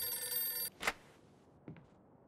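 A telephone rings in the Mafia 2 video game, a bright ringing burst lasting under a second before a short pause and a second fainter double tone, with no talking over it.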